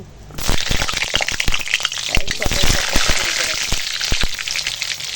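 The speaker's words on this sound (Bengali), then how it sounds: "তো চলো তেল গরম হয়ে গেছে পটলটা আগে" Pointed gourd (potol) pieces dropped into hot oil in a pan over a wood fire, loud continuous sizzling and crackling with sharp spits and pops throughout.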